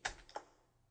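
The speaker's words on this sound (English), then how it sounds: "What I'm going to do is highlight all of the text by clicking Ctrl-A and copy it by clicking Ctrl-C." Two quick plastic key clicks on a computer keyboard for Ctrl-A and Ctrl-C shortcuts, close and crisp, spaced about a third of a second apart.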